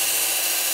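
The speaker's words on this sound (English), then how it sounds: "10 out of 10 for the motherfucking tiny chainsaw." A tiny battery chainsaw bought from Temu runs in a steady, loud, continuous buzz with no pauses, sounding close.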